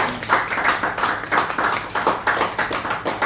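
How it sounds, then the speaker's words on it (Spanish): A church congregation claps for the Lord during a sermon, a dense burst of many hands that swells and surges in waves for a few seconds. "Denle un aplauso al Señor"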